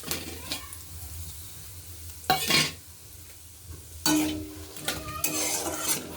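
Bay leaf, dry red chilli, whole garam masala and cumin seeds hit hot oil in a kadai, giving two loud bursts of crackling sizzle with quieter stirring and faint scraping between them.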